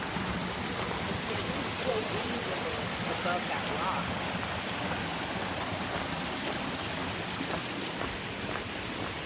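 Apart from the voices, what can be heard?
water streaming down rocks at Uvas canyon waterfall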